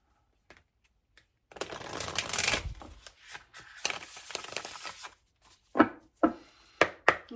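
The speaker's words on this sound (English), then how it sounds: "I just want to shuffle one more." Tarot cards are shuffled close by in a quiet room, with a long papery riffle burst followed by softer rustles and several sharp, separate taps as the deck is squared.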